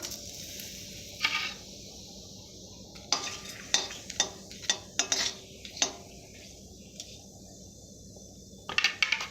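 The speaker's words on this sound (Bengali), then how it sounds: "ফোড়ন দেব এর সঙ্গে দুটো তেজপাতা দেবো" Bay leaves and whole spices temper in hot ghee in a pan, with a low steady sizzle under a scattering of sharp metallic clinks from a stirring utensil.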